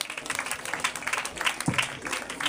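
A crowd claps steadily at an IYF graduation ceremony in Garissa, as a graduate is honoured during certificate awarding; the dense, fairly loud applause holds for a couple of seconds without letting up.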